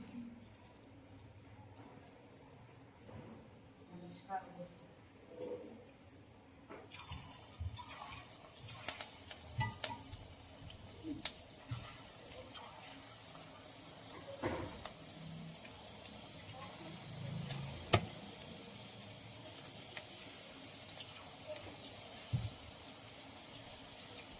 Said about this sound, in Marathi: तर आता तेल गरम झालंय भजे सोडून घेऊ त्याच्यात